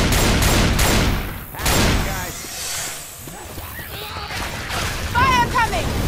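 Rapid bursts of gunfire in the zombie shooter Left 4 Dead 2, loud and close, with sharp volleys rattling under excited talk and chaotic game effects.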